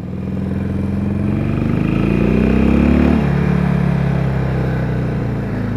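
A Harley-Davidson 883R motorcycle engine drones steadily while riding, its pitch climbing as it revs, dropping abruptly after a gear shift, then holding a steady rumble.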